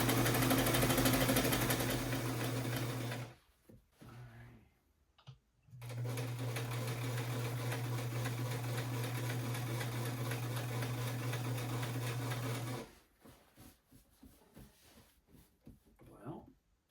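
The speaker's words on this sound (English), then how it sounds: "Trying to put through the middle of this tiny little sewing machine." Small vintage sewing machine stitching through canvas, a steady close whirring hum that runs, pauses briefly twice, then stops, followed by quieter handling clicks and a voice speaking.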